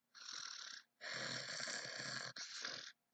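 A human voice imitates a hedgehog snoring, giving three breathy snores in a row, the second one longest, close and fairly soft with no other sound around them.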